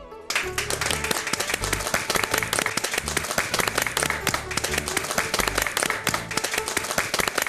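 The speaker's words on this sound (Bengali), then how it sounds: "আসুন আমরা সবাই মিলে ডক্টর মৈত্রের সেই ফাইটিং স্পিরিটটাকে হাততালি দিয়ে সম্মান জানাই।" An audience applauds to honour Dr. Maitra, steady dense clapping filling the whole stretch, loud and continuous with no pauses.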